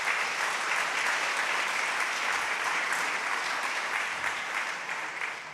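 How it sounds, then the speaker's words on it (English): A large audience at an AI week event gives the startup founders a big round of applause after their pitches, dense sustained clapping that holds steady and starts to fade near the end. "can we give all of the founders a big round of applause?"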